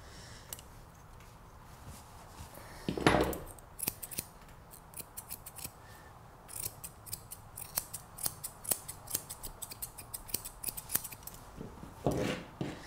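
Scissors trim a Labradoodle puppy's coat, producing rapid runs of crisp snipping close to the ear, with scattered single cuts and a few brushing rubs between bursts over a quiet background.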